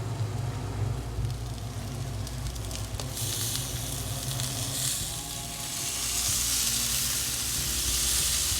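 Tandoori salmon fillets sizzle loudly in a hot pan, the frying hiss swelling brighter and fuller midway as half a lemon's juice is poured in and steam bursts up.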